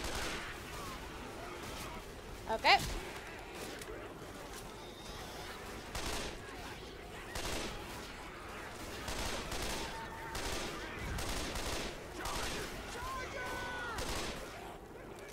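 Gunfire in the Left 4 Dead zombie shooter, rapid bursts and single shots crackling through most of the stretch with a sharper close blast early on, while players talk over the shooting.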